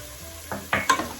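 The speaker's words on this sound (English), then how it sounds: "the three main ingredients of sauteing is garlic, onions, and of course the tomato" Garlic, onions and tomato sautéing in a pan for a sweet and spicy coconut milk salmon dish, with a few short stirring scrapes and sizzle bursts over a quiet kitchen background.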